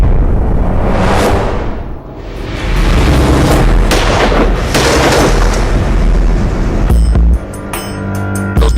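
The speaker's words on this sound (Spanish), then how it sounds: "Los disparos vienen de asesinos contratados por el norteamericano Michael Townley" Loud, continuous bursts of gunfire and booming blasts from hired assassins under Pinochet's regime in Chile, dense and chaotic, with a brief drop in intensity partway through.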